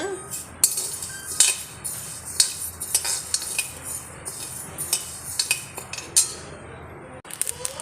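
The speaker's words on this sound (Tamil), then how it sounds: "அரிசி பொரிய ஆரம்பிச்சிருச்சு எடுத்துடலாம்" Rice grains scrape and rustle in a pan as a utensil stirs steadily while roasting, with repeated metallic clinks against the pan and a light background sizzle.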